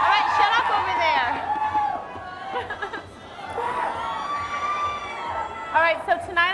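A large, noisy crowd of about 1,500 people chatters and shouts at an indoor evening event, with excited children's voices rising in bursts over a constant roar of overlapping talk.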